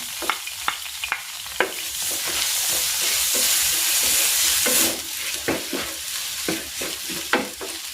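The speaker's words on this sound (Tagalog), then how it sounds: "Magigisa na ako ng bawang." Garlic sautéing in a pan for pork with garbanzos, a steady broad sizzle that swells for a few seconds mid-clip, punctuated by repeated sharp clinks and scrapes of a utensil stirring against the pan.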